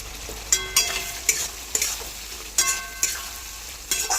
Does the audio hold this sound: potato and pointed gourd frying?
yes